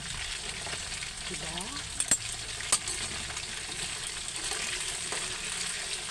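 Potatoes fry in a pan with a steady soft sizzle, with faint stirring clicks and a couple of sharp taps; a voice speaks briefly over the cooking.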